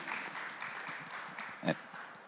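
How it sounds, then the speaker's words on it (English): Audience at a panel discussion applauds in a faint, distant patter of many hands, steady throughout with one louder thump near the end. "A round of applause"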